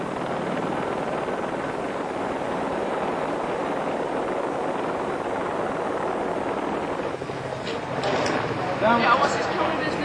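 Continuous loud rotor roar of a police helicopter overhead dominates throughout, with muffled radio-like voices rising under it near the end.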